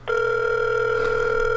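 A steady, loud electronic telephone ring tone holds unbroken during an outgoing call, with no voices over it.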